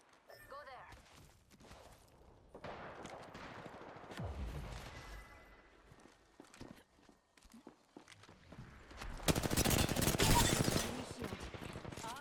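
Gunfire in the video game Apex Legends, a few scattered shots and then a dense loud burst of rapid firing near the end, mixed with footsteps and in-game voice callouts.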